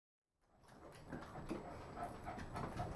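A dog pants in quick, steady, soft breaths close by, after a brief moment of silence, with faint whimpering mixed in.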